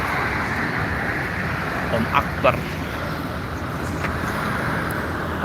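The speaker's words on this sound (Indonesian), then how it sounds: "kita tunggu kendaraan apa saja yang melintas" Traffic on Soekarno Hatta road in Palembang, Indonesia, a steady broadband road roar of vehicles passing, with a few faint higher clicks and no distinct voices.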